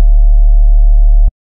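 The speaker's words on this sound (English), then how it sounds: "So this is a sine wave." A pure sine wave synth tone for a dubstep production holds steady and loud for just over a second, then cuts off abruptly into silence.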